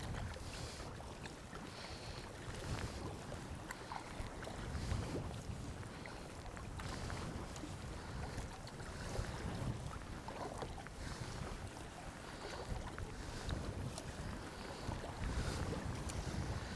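Wind blowing outdoors beside Loch Sunart, a rough, gusting rush buffeting the microphone over faint water sounds, steady and fairly quiet with no talking.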